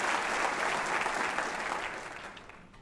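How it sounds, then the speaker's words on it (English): Broad, continuous applause from a large audience at a Jehovah's Witnesses gathering, heard at a distance and slowly fading toward the end. "this is a long clapping break that has been taken here"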